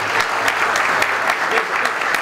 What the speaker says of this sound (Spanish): Hay que hacer fuertísimos los aplausos para los campeones 2017